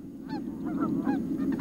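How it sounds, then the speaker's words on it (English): Waterfowl honk in a marsh where trumpeter swans and sandhill cranes share the shoreline, a few nasal calls at moderate distance over a steady low background rumble with no talking. "honking boisterously and disturbing the stillness of the marsh"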